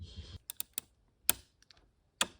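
Plastic retaining levers creak and click as RAM is pushed into an iMac, heard as a few sharp, close snaps and creaks separated by short silences after a brief scrape.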